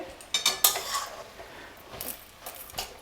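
A metal lid comes off a pot of punarnava greens cooking on the stove, giving a few quiet clinks and scrapes of metal close by, followed by softer rattles.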